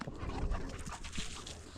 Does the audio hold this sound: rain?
no